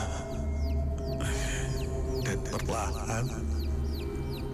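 Repeated high chick peeps thread through a radio horror drama, rising and falling chirps over a dense, eerie background bed, with a brief spoken line partway through.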